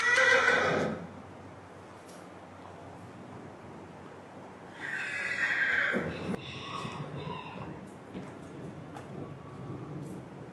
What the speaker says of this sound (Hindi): ये जो घोड़ा खड़ा है सुल्तान, ये उसका रिजल्ट है